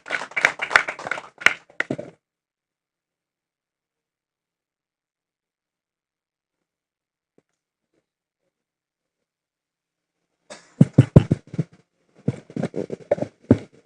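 A workshop audience at a business capacity-building event at a hotel claps in two short bursts, a few seconds of ragged applause, then silence, then another round of nearby clapping.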